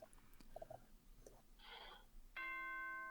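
A nighttime announcement chime from the video game Danganronpa: a short bell-like tune of a few sustained chime tones rings out clearly near the end, after scattered faint clicks and a brief noisy burst.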